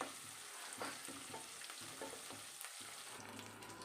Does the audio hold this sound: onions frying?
yes